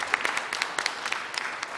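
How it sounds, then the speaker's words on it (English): An audience at the CompTIA Breakaway 2010 conference claps in a steady, dense round of applause, sharp individual claps standing out, with no talking. "Another round of applause."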